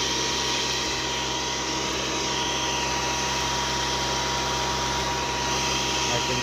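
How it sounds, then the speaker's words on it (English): A Portland chipper shredder from Harbor Freight grinds desert brush, a loud continuous motor roar with steady churning throughout, close and unbroken. "I can see now that doing the desert brush through this chipper shredder will work."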